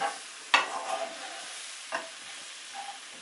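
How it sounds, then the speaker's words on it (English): Leek flash-fries steadily over fairly high heat in a hot pan with oil and garlic, a couple of sharp scraping stirs breaking through the constant frying hiss. "my heat is fairly high so that, again, I'm flash frying it"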